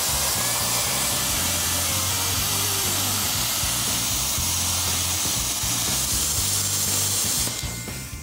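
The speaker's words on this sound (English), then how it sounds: "Butting our torch up against the edge of our yardstick," A cutting torch slicing along a straight edge through the rusted chassis of a square-body truck: a loud, continuous roaring hiss with a low fluttering rumble underneath, steady throughout and tapering slightly at the very end.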